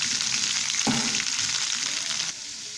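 Chopped onions with salt fry in a pan for a garlic kuzhambu, sizzling steadily with a short scrape of stirring near the start and a slight drop in intensity toward the end; no talking.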